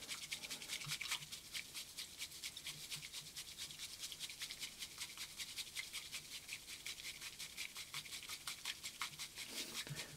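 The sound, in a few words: whisking matcha tea until frothy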